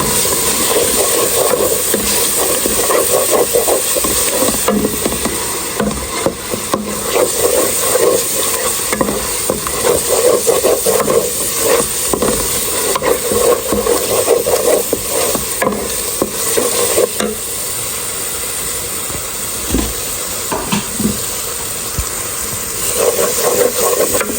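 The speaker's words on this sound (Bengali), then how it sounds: "আর এখান থেকে এখন ময় মশলা সব দিয়ে দিতেছি। তো কষাই নেব।" Spices sizzle and are stirred in a pan while being sautéed, with continuous close frying hiss broken by scraping and clattering strokes of a utensil, loud and steady throughout.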